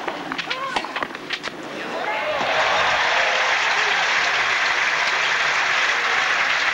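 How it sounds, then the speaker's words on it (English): A tennis crowd at the 1996 French Open final between Steffi Graf and Arantxa Sanchez Vicario breaks into loud, sustained applause and cheering, swelling after a couple of seconds and holding steady. "Yes, the crowd certainly celebrated."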